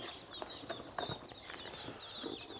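High-pitched peeping and chirping from little ducklings in a brooder, a steady faint chorus of small calls close by.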